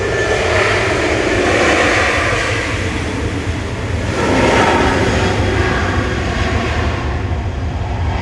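A test-flight airliner takes off at Manchester Airport with a loud, steady jet roar that fills the whole stretch and swells slightly midway, heard from a spotting position with no voices.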